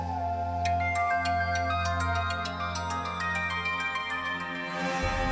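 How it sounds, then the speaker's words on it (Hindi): A phone rings with a bright, repeating melodic ringtone that plays steadily for several seconds, close and clear, with a low background hum beneath it. "किसका फोन है?"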